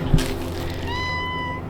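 A single cat meow, close and clear, rising and then held briefly.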